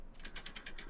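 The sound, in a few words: roller coaster chain lift clicking, video game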